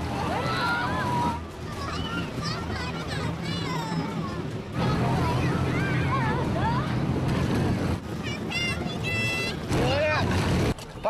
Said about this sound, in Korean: 자, 파도입니다.